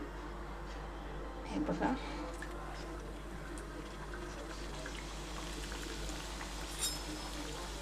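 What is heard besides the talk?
samosas frying in hot oil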